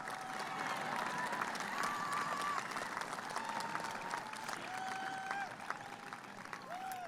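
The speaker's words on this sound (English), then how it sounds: "That's a good place to clap." Distant, sustained applause from a large audience at a 2015 undergraduate commencement speech, a steady dense patter of many hands with scattered whistles and faint murmuring in the crowd.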